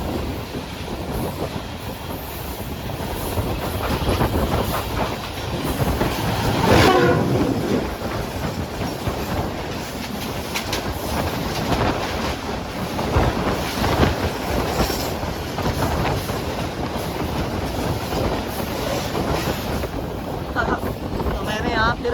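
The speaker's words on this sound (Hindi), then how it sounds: "और हमारी ट्रेन अब रफ्तार पकड़ रही है" A Pakistan Railways passenger train picking up speed on the tracks, with a steady loud roar, rhythmic clickety-clack of wheels and rattling carriages throughout, heard from on board.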